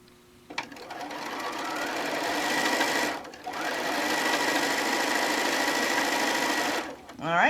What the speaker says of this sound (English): just going to sew down, and then I'm going to stitch this guy as well